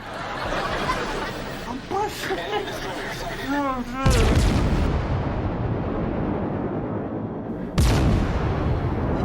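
Naval gunfire from a cruiser in World of Warships Legends: a sudden heavy boom at about four seconds and another near eight, each followed by a long rumbling tail, over steady battle noise and earlier game chatter.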